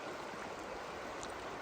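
A small river flows past a campground at the edge of winter, a steady, broadband rush of water close by, with no voices over it.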